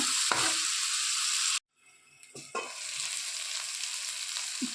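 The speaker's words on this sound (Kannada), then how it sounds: "ಉಪ್ಪು ಹಾಕೋದ್ರಿಂದ ಟೊಮೆಟೊ ಬೇಗ ಸಾಫ್ಟ್ ಆಗುತ್ತೆ. ಚೆನ್ನಾಗಿ 1-2 ನಿಮಿಷ ಫ್ರೈ ಆಗಲಿ." Tomato with salt fries in a pan for egg masala, giving a steady close sizzle that cuts out briefly midway, then resumes with occasional stirring knocks; no speech.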